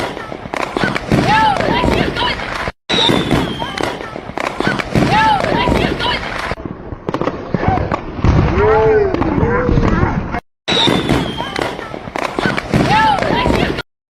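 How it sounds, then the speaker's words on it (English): Fireworks go off during a lightning storm in Mustang, Oklahoma, with dense, repeated pops and crackling bursts that fill nearly the whole stretch, broken only by a couple of brief silent cuts. "Epic light show fireworks and lightning collide in a stunning scene in Mustang"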